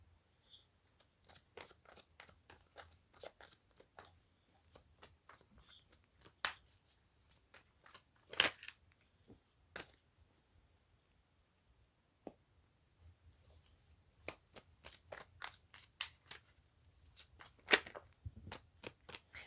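Tarot cards shuffled by hand, with faint, quiet riffling and scattered soft taps and snaps of cards, heard close in an otherwise hushed room.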